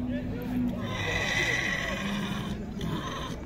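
A horse neighs at a livestock horse market in Naryn, Kyrgyzstan, a loud whinny rising over hoof clops and a busy crowd, with people talking close by.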